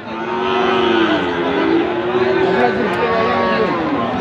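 Cattle, including Friesian and crossbred bull calves, low steadily in long, droning moos amid a busy market hubbub at Raniganj market, Ghoraghat, Dinajpur, with people talking and animals calling close and far.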